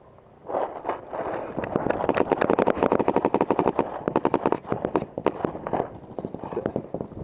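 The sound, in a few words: WGP MG7 paintball marker firing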